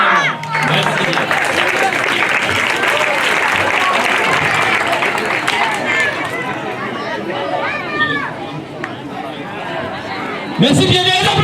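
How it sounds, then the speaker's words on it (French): A school audience at an end-of-year show claps in sustained, dense applause that fades slightly, with crowd chatter mixed in and a voice speaking near the end. "On applaudit beaucoup."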